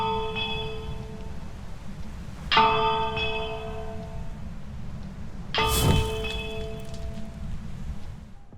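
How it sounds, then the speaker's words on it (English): Bell in a video game lighthouse struck twice, each ring a sharp metallic clang with a long sustained resonant tone, over a constant low ambient rumble. "ring this bell 3 times"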